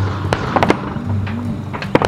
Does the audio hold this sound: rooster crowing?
no